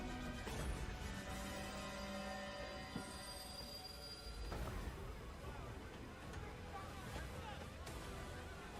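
Train in the Last Train Home video game trailer: steel wheels squeal and railcars rumble and clatter over a dense, steady bed of noise, with a voice speaking over it.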